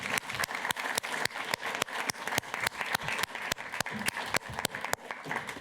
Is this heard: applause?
yes